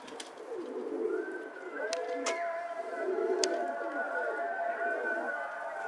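A pigeon or dove coos repeatedly in an outdoor village setting, a soft low rhythmic call recurring through the clip over light ambient background with occasional sharp knocks.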